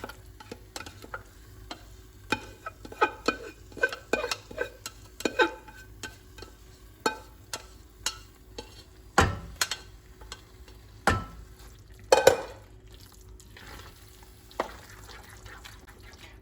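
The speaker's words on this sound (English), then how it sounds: "At this point, we are ready to mix this into the masala we made." Pav bhaji being stirred into masala in a pan, Mumbai street style, with scattered spoon scrapes and taps over a faint sizzle, a few louder clanks near the end.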